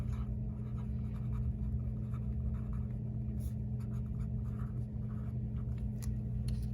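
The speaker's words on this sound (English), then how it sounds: "So if I was writing the shorthand, here's what I would do." Pen or marker strokes scratch out a shorthand electron configuration for osmium, a continuous run of short close scribbles over a steady low hum.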